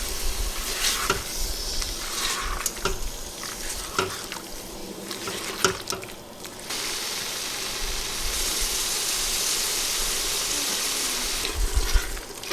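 A masala of cumin, black pepper, turmeric and salt frying in a pan, a steady close sizzle broken by scraping stirs and clinks, then a broader hiss that holds to the end.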